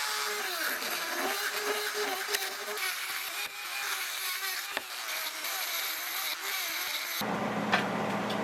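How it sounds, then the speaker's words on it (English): A carbide burr in a rotary tool grinds steadily on a metal track adjuster part from a Case 170B excavator, giving a continuous high whine with scraping, close and alone, then cutting off near the end. "Clean it up a little bit with this carbide burr."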